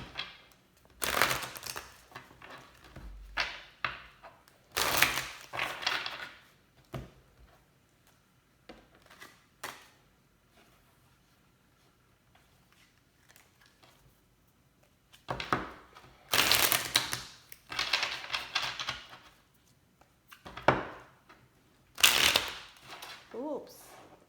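Tarot cards being shuffled by hand during a card reading, several bursts of riffling and slapping separated by quiet gaps, close and moderately loud, with some speech.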